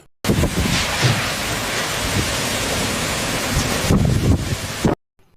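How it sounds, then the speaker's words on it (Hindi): Heavy rain pours in a dense, continuous roar during a thunderstorm, with rumbling swells and wind buffeting the microphone, loud and close, before cutting off abruptly. "बारिश तो बहुत तेज हो रही है"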